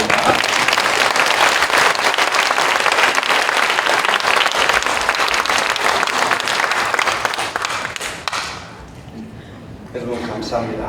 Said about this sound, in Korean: 나오실 때에 박수로 환영해 주시면 감사하겠습니다.